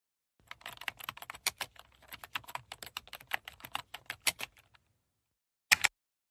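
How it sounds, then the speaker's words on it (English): Steady run of typing on a computer keyboard, rapid close keystrokes for about four seconds, then a short pause and one final loud burst of two keys, with no voices. "Then I am gonna type a secret command on your error to see how you like this."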